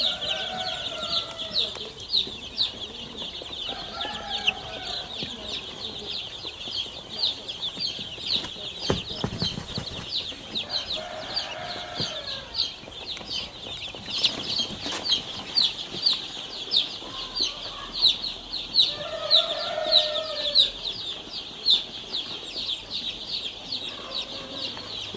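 Two-day-old chicks in a brooder pen under a heat lamp, giving a steady stream of high, thin cheeping with occasional lower clucks and fowl calls, close and continuous throughout.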